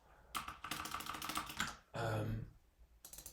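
Quick bursts of close typing on a computer keyboard while Bash code is written, with dense clatter broken by short pauses and a voice speaking partway through.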